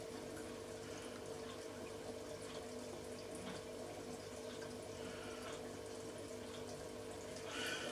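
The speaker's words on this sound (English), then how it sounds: "Wash my hands because I need to measure." Tap water runs steadily into a sink during hand washing in a home kitchen, a continuous close hiss and splash that stays even throughout, with a brief louder splash near the end.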